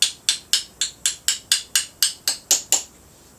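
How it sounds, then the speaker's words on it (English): Light hammer taps curling a metal edge over during a big block engine teardown: eleven evenly spaced, sharp metallic knocks, close and moderately loud, each ringing briefly before the next, with no talking. "You don't have to get very aggressive with the hammer at all."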